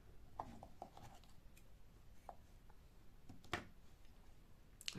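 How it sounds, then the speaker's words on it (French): Scissors snip through crochet yarn close up, with a few quiet clicks and rustles and then sharper, distinct cuts against a very faint, near-silent background. "Je coupe le fil."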